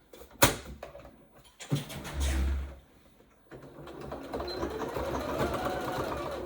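A sewing machine stitches across elastic while making a headband for health workers, its motor whirring in bursts with short stops, a brief low hum and handling knocks between runs, then a steady run of stitching.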